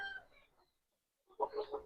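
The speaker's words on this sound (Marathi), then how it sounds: "माझ्याकडे आता साधारणतः चार हजार पेक्षा जास्त कोंबडे आहेत." Chickens at a poultry farm in Solapur holding over four thousand birds cluck quietly in two short bursts separated by a brief pause, faint and close.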